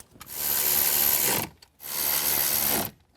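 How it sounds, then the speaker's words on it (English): A ratchet or driver tightens 8mm bolts while an amplifier is installed in a 2021 Ford Bronco, heard as two long buzzing runs of about a second each with a short pause between, loud and close, no speech. "let's go ahead and reinstall our 8mm bolts"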